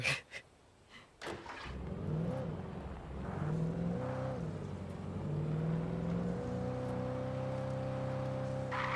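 A muscle car engine in the Alan Wake video game, revving up and settling into a steady, rising drone after a few sharp knocks at the start, loud and close with no talking.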